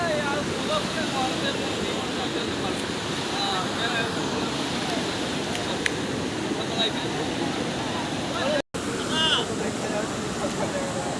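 Loud, continuous rush of river water churning at a broken bridge, a dense unbroken roar with a brief dropout near the end, while a person speaks faintly beneath the flow.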